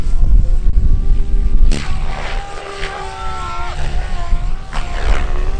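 SAB Goblin Drake Edition RC helicopter with an X-Nova motor flying at a Rotor Live show, a loud, continuous whine with pitch sweeps and rising and falling tones as it manoeuvres.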